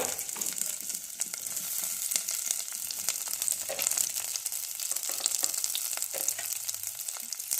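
Boiled sweet corn kernels fry in ghee or oil with a steady, loud, close crackling sizzle and scattered pops and stirring scrapes throughout, with no talking.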